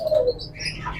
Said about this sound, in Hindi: रेड बार स्वेलो, इंतहाई खूबसूरत पेयर, कंफर्म ब्रीडर पेयर, 2022 का इंपोर्टेड बर्ड